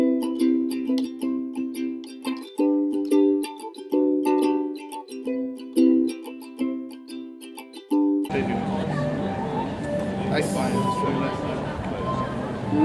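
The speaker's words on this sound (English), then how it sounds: "You can also hear a little bit of classical music in the background" Classical street music plays in a Bremen town square, a melodic instrumental line with steady phrases for about eight seconds, then giving way to louder, broadband outdoor street noise.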